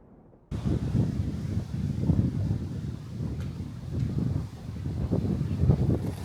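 Strong wind buffets and roars in surging gusts, rising and falling after a brief quiet start, during a thunderstorm near the sea.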